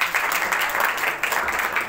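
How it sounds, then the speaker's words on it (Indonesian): Applause from a classroom or small audience, a steady dense wash of clapping hands lasting throughout, fairly close and moderately loud with no speech over it. "Tepuk tangan buat Anissa"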